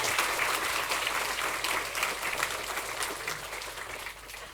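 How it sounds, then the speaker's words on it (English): Audience in a lecture hall applauds at the end of a talk, a dense, steady burst of clapping that stays loud, then slowly eases off. "please give a round of applause"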